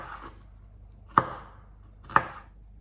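Two crisp knife chops cut through a mild, sweet summer onion on a cutting board, about a second apart, close and distinct with no talk.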